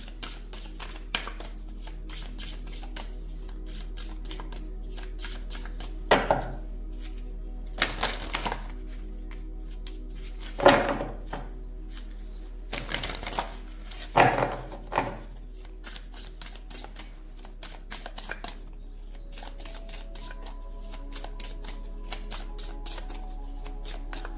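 Tarot cards being handled and pulled from a deck: soft repeated shuffling and slapping bursts scattered over a steady low hum, with quieter rustling between, no talking.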